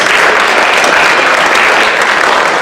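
A loud, dense wave of audience applause for the candidates at a high school mock presidential primary debate, sustained and close without pause.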